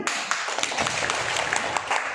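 Participants at a classroom culture workshop clapping, a short burst of many hands in a fast, ragged patter heard alone at moderate loudness.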